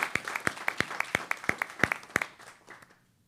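A small audience at an Oklahoma Aeronautics Commission meeting claps in a sparse, evenly spaced round of sharp hand claps that fades out after a couple of seconds.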